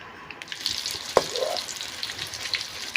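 Cumin seeds hit hot oil in a home kitchen and sizzle, a steady crackling fry with a brief clink partway through, close and moderately loud.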